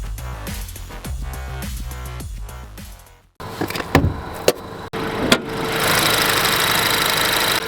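A 2026 Acura ADX's turbocharged 1.5-liter four-cylinder, paired with a CVT, runs with a mechanical hum that shifts into a louder, rushing broadband roar with a few sharp knocks in the second half; no one speaks.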